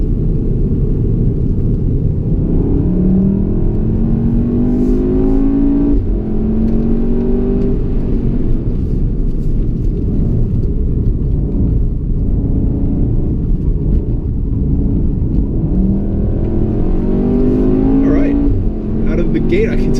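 A VW Golf R with a dual-clutch gearbox accelerates hard around a figure-eight track in sport mode. Its engine note climbs in repeated rising sweeps out of the corners, loud and close, with a voice talking over it.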